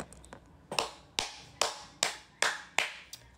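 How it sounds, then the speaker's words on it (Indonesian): A person claps alone and close by, about eight separate sharp claps at an even, unhurried pace, each one ringing briefly with no voices in between. "Tepuk tangan dulu guys."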